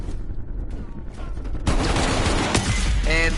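Pistol gunfire in Call of Duty: Black Ops Cold War, a few sharp shots and a rapid burst, with someone talking over the game sounds.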